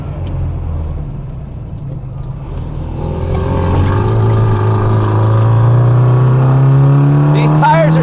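A Lotus-inspired classic Mini Cooper on sticky tires accelerates hard, its engine climbing in a loud, close, steadily rising drone as it pulls through the gear, with faint chatter from the driver.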